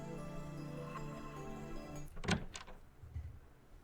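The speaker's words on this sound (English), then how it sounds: "I hear the door open and quickly cover Ferris's mouth with my hand." Door opening in the visual novel game Steins;Gate, a short mechanical sliding and clunking sound after a tonal hum, fairly quiet, with a softer knock following.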